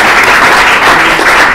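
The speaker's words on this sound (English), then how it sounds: "let's give a round of applause to Professor Hernandez" Loud audience applause for a professor after a talk, dense close clapping that holds steady throughout the brief moment.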